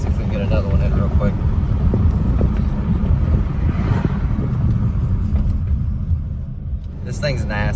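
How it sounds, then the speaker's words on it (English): A 2012 Buick Regal with a turbocharged 4-cylinder engine pulls hard under acceleration, heard from inside as a steady low roar with road and wind rumble throughout, with people talking over it. "you wouldn't expect a 4-cylinder turbo to pull this hard"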